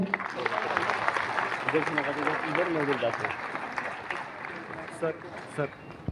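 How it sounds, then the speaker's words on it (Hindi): Loud audience applause for company members at a lecture event, a steady dense clatter of clapping with a voice speaking over it, easing slightly toward the end. "उन सभी के लिए एक बार जोरदार तालियां।"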